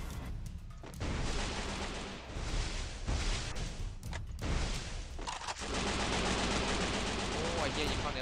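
Dense, loud bursts of rapid gunfire from the Free Fire battle game crackle almost without pause, with brief lulls between volleys while a player talks excitedly over the shooting.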